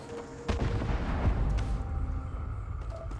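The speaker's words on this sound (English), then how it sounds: "There's gunfire" Starfield game gunfire: a sharp report near half a second, then further low booming shots and rumble continuing over a dense, noisy low-end bed, fairly loud throughout.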